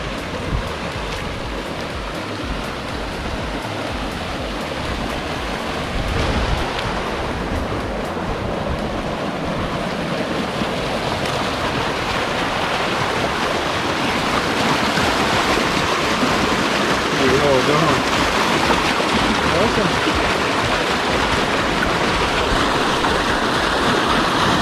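River water flows steadily at a hot riverside, a dense, constant rushing and splashing that stays loud and even for the whole stretch.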